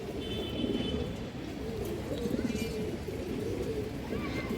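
High flyer pigeons coo softly and repeatedly at a farm, low murmuring calls close by with a few faint chirps and background voices.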